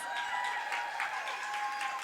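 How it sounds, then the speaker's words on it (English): Audience applause for business pitch competition entrepreneurs at an afternoon event, a brief, faint, steady wash of clapping heard at a distance and without speech. "Please give these entrepreneurs a round of applause."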